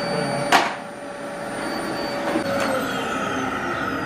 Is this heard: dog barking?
no